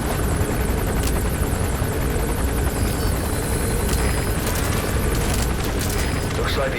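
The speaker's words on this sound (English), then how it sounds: "Looks like the arms dealer's chopper has got a patrol for the security forces." A patrol helicopter hovers overhead in Metal Gear Solid V: The Phantom Pain, its rotor throbbing in a loud, unbroken wash that stays constant throughout.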